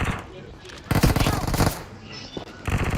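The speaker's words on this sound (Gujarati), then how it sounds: "M16" M16 rifle gunfire in a BGMI mobile match: a dense automatic burst lasting nearly a second, followed by shorter bursts later, loud and close, with speech around them.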